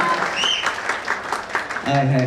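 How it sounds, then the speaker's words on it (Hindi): Applause from an audience at a sangeet wedding ceremony, a crowd clapping steadily and fairly loud for a couple of seconds, with voices mixed in and a brief musical tone near the end. "एक बार जोरदार तालियां"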